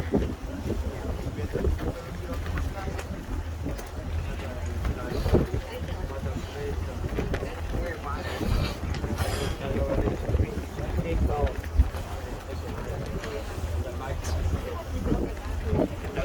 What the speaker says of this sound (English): Our boat is leaving now for the ride, going out to the ocean.